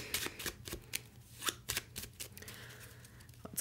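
A deck of reading cards is shuffled by hand, giving repeated crisp riffles and slaps in an uneven rhythm, close and fairly quiet, with no speech.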